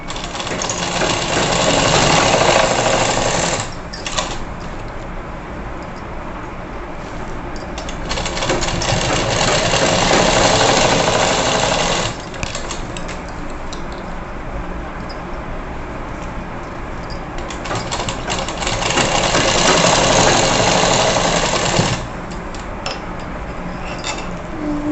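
Electric sewing machine stitching a net blouse, running in long steady bursts of several seconds with short pauses between, loud and close, with no talking.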